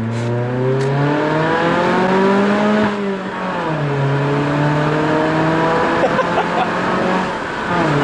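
A car accelerating hard on a street, its engine rising steadily in pitch through a long pull, dipping briefly and climbing again, loud and close with a continuous strained roar and faint tire noise.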